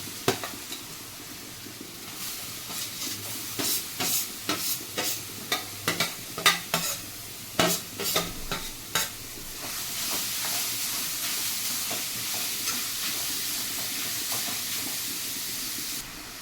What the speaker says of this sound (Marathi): तुपामध्ये गाजर भाजून घेऊया